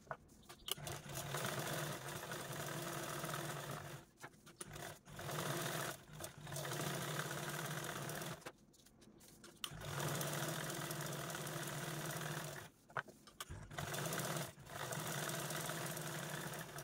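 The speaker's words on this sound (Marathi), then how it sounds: "आणि आता आपण यावरती क्विल्टिंग करून घेणार आहोत. तर चला शिलाई मशीनवर." A sewing machine stitches quilting lines through pinned fabric, running in steady whirring bursts of a few seconds, each cut off by a brief pause before the next run.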